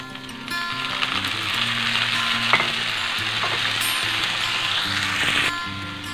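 Water spinach and garlic stir-fry in a hot pan with a steady bright sizzle, broken by scraping, clicking stirs from a utensil, close and continuous without talk.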